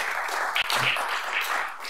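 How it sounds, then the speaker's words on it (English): An audience applauds steadily at a lecture in an academic setting, a dense, sustained spread of many hands clapping without pause from start to finish. "Yes, do applaud."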